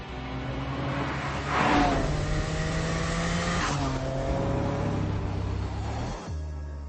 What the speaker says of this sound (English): The 218 mile an hour Bugatti EB110 Super Sports.